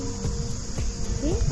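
Insects chirping in forest near Curtis Falls on Mount Tamborine, a dense continuous high trill with a few faint bird notes beneath, steady and fairly close.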